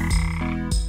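A frog croaks twice in a short, loud, close call with a deep, throaty, pulsing tone, heard alone with no talking.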